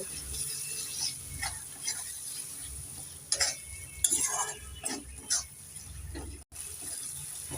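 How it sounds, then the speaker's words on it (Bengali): Spice paste with ginger paste and turmeric stirred and fried in a pan for cabbage chicken: quiet sizzling under repeated spoon scrapes and light clinks, a few louder strokes midway, close and without talk. "এবার নেড়ে চেড়ে মশলাটাকে আমি তিন মিনিট ভালো করে কষে নেব"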